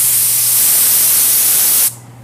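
A loud, continuous hiss of hydrographics activator sprayed from a nozzle at about 17 psi lasts nearly two seconds, then cuts off abruptly, leaving a faint hum.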